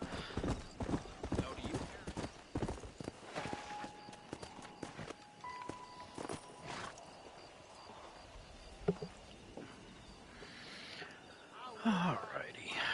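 Horse hooves clip-clop steadily in the Red Dead Redemption video game, a rhythmic run of hoofbeats close up, with game ambience, brief whispery voices and splashy water-like noise near the end.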